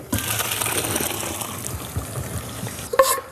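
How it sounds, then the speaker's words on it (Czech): Water from a pot of briefly boiled kale (cabbage) leaves, stems removed, pours and splashes through a kitchen strainer as a steady gushing rush, with a sharper splash near the end. "Kapustu vycedím."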